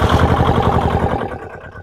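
The diesel engine of a 1962 Hustler articulated four-wheel-drive truck, started after its glow plugs warm up, catches with a loud, close, pulsing rumble that settles into a rough idle.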